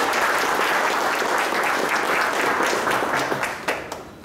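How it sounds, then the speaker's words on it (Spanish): An audience at a business expo closing event applauds steadily, a dense wash of clapping that holds strong before thinning out and tailing off near the end. "Y les pido un aplauso más para todo el equipo que trabajó en esta ciudad"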